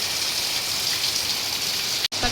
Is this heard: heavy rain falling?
yes